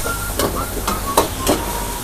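Scallops with seasoning stir-fried fast in a pan, giving a steady sizzling hiss broken by four sharp spatula clanks at an even pace, close up and with no talk.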